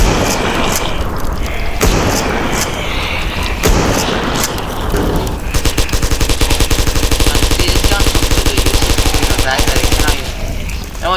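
Gunfire from a gun in the video game Teardown, loud and near: scattered shots and booms early, then a long sustained rapid burst of automatic fire running nearly to the end, with no talk over it.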